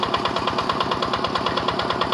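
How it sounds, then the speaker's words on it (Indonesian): Yanmar TF65 engine on a G600 rice field tractor running close by with a steady, rhythmic knocking chug and a constant vibrating drone, with no voices. "mesin traktor G600 dengan mesin Yanmarnya adalah Yanmar TF65 nih"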